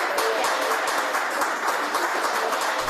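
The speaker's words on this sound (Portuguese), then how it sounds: "comemorada com aplausos" Crowd applause greeting the first dose of vaccine given in 2020, a continuous bright patter of many hands clapping at moderate distance, steady throughout.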